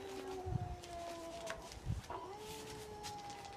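Wolves howl in long, wavering tones on a played recording, faint and somewhat distant, with a few soft thumps underneath.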